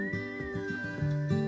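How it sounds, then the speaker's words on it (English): Melodic whistling from a song, a steady high tone gliding slightly downward over a bed of music, bright and up front. "He's probably doing the whistling."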